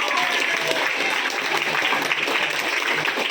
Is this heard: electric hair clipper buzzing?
no